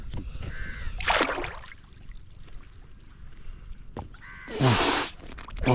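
Crows caw near a backwater in Kuttanad, Kerala, during kayal fishing: two loud harsh bursts, one early and one toward the end, over a soft constant background of water.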